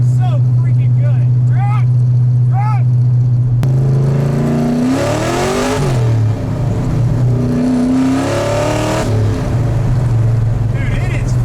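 An LS3 V8-swapped Mazda Miata with longtube headers and a titanium exhaust drones loudly and steadily up close, then revs hard in two rising surges that fall back to a heavy idle.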